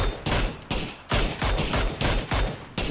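Rapid automatic gunfire from PUBG during a duo squads match, loud and continuous, with sustained bursts of shots rattling one after another throughout.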